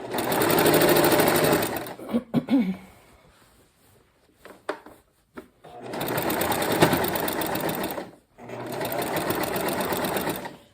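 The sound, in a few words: sewing machine stitching over quilt seams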